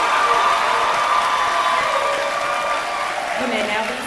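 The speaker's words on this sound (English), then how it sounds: "Please give these students a round of applause." Audience applause at a high school graduation ceremony, a steady wash of clapping sustained for a few seconds at moderate loudness, with faint voices mixed in.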